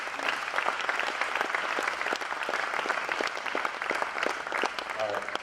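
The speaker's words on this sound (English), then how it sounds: "So let's give a round of applause for Bradley." An audience claps at a spring college signing day, with brisk, steady applause filling the room for several seconds while a few voices murmur underneath.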